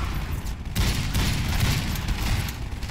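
Rapid gunfire from customizable weapons in the Garry's Mod video game, a dense, loud fusillade of overlapping shots and booms filling the moment without pause.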